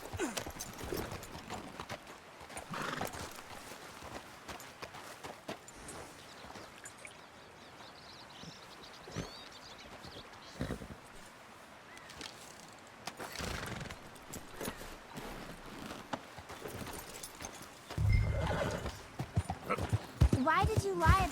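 Horse hooves clip-clopping at a steady pace in the Red Dead Redemption 2 video game, with rhythmic hoofbeats running under ongoing character dialogue and ambient game sounds, growing louder near the end.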